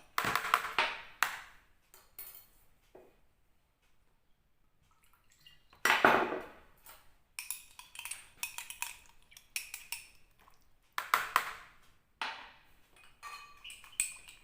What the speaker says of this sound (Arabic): غادي نحركو هاد الزعفران باش ما يبقاوش دوك الحبيبات مبرزطيننا